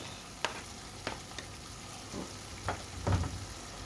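Beef, tomatoes and chili stirred in a pan: quiet, intermittent scrapes and soft clatters of a spoon at irregular intervals over a faint background sizzle.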